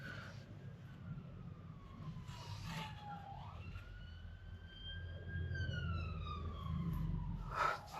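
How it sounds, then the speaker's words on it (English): An ambulance siren wails past on a nearby road, its tone sweeping up and down in long glides, fairly faint and distant against low traffic rumble. "there's another ambulance that's just shot past"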